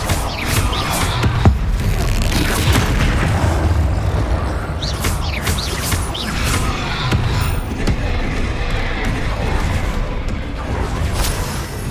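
Repeated spell blasts, booms and whooshes in Hogwarts Legacy, with the Bombarda blasting spell among them. The combat effects are loud and continuous, with sharp bursts cutting through a dense, rumbling game soundscape.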